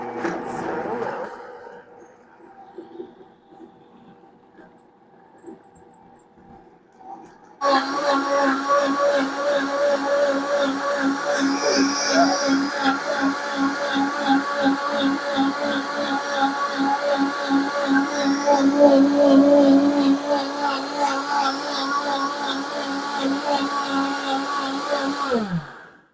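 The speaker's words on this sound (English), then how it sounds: "I see why you wanted this blender so bad. Holy moly. That is powerful." A high-powered blender whirs loud and steady for about 18 seconds, blending birria sauce after a quieter, lower start, with a few faint kitchen sounds before the motor ramps up.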